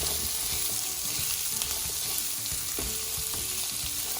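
Chillies and onions sauté together in a pan for a Goan prawn chilli fry, a continuous close hiss of sizzling oil with occasional scraping and stirring clatter, no one talking.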